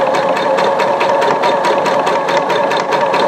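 A sewing machine stitches fabric at a fast, even rhythm, its motor humming loud and close with a steady mechanical chatter throughout.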